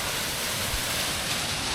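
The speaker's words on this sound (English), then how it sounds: "I recognize this mini waterfall" Small waterfall beside a mountain hiking trail on the Continental Divide, a steady close rush of falling water with no other sounds.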